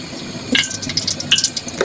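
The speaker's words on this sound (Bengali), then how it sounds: "প্রথমে দেবো সরিষার তেল" Mustard oil poured into a pan while making a spiny gourd mash, a soft liquid trickle with a couple of brief splashy bursts over quiet kitchen background.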